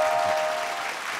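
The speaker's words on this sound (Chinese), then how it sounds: "掌声欢迎一下田老师" An audience applauds to welcome singing teacher Tian in a music classroom show, a dense, steady patter of clapping that holds for the whole stretch.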